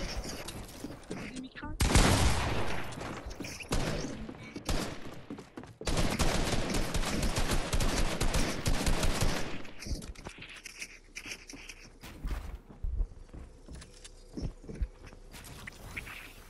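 Automatic gunfire in a shooter video game, with dense rapid bursts between about two and ten seconds followed by scattered single shots and clatter. People talk over parts of it.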